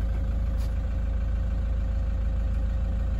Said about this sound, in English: it's already probably idling high because we've got a cold engine